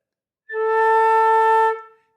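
One sustained flute tone, pure and even, played alone for just over a second before tapering off into quiet.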